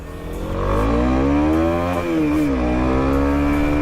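A Kawasaki Z250SL motorcycle engine revs up close and loud, its pitch climbing, dipping briefly, then rising again, with no voices over it.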